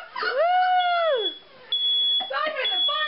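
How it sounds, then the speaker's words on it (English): A smoke alarm at a birthday gathering sounds a shrill, steady high-pitched tone. A wavering, howl-like voice rises and falls around and over it. "Stop it, the fire alarm go off."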